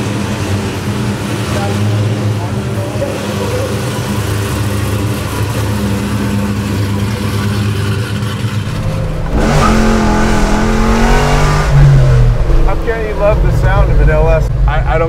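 A Chevelle restomod with an LS3 engine accelerating on a drive, the engine droning steadily before revving hard through rising pulls, with people talking inside the car.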